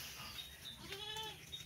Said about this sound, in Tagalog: So nandito yung mga kambing natin.